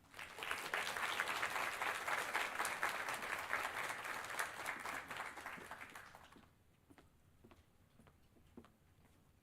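Audience applause at a physician assistant white coat ceremony, sustained crowd clapping for about six seconds before fading to a few scattered claps.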